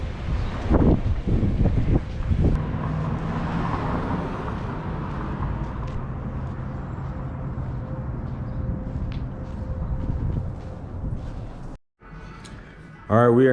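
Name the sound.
wind outdoors blowing into microphone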